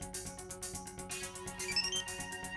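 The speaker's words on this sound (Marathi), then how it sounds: "राजन शेट, बाबूचा फोन" Mobile phone ringing indoors in a Marathi TV drama scene, a faint repeating electronic ringtone with a quick regular pulsing rhythm, with no talking over it.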